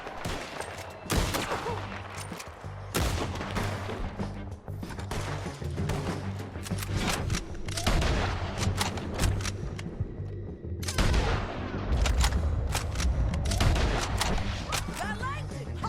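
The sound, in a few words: gunfire from the video game Red Dead Redemption 2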